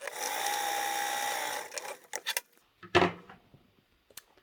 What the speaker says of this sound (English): we are top stitching this down with a 1/8 seam allowance